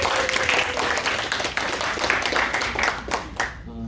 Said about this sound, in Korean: 박수해도 좋아요. 박수해도 좋아요.